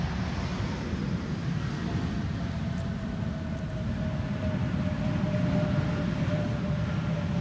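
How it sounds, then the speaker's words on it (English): An Air Transat airliner landing on Schiphol's Polderbaan runway 18R with its thrust reversers deployed, heard as a sustained, even, broadband roar from some distance, with no voices. "Transat once again using the reversers."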